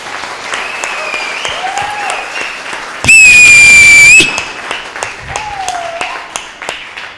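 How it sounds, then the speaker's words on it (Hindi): An audience bursts into applause with loud whistling in the middle, lasting about a second, set between stretches of someone speaking at a church sermon. "इस पे ताली बजनी चाहिए"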